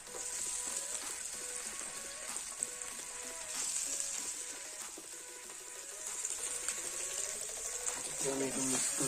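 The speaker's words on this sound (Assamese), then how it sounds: "গোল্ডেন ব্ৰাউন হোৱালৈকে ফ্ৰাই কৰিম।" Chopped onions sizzle and crackle steadily in hot oil in a pan as they fry to golden brown for an aloo mattar sabji, a continuous close hiss with occasional stirring scrapes.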